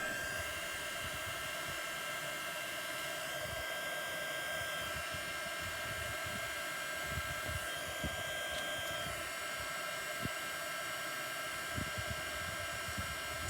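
A hair dryer blows steadily and loudly on a thrifted, French-inspired DIY craft piece, a continuous whooshing whir that runs unbroken from start to finish with faint clicks of handling.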